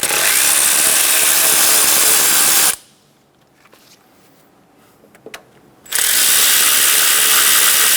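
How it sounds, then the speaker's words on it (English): A ratchet spins in rapid, loud buzzing bursts as 12mm nuts come off a 1994-1997 Honda Accord 2.2L four-cylinder engine, with two long runs separated by a quiet pause holding faint clicks. "Remove the two 12mm nuts."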